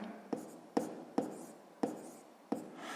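Pen writing on paper during a sixth-grade math exercise: five short, faint scratchy strokes at irregular intervals, close by and with no voices.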